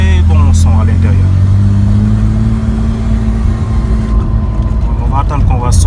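A modified car's engine heard from inside the cabin, holding a loud, steady low hum with slight revving, while people talk over it at the start and end.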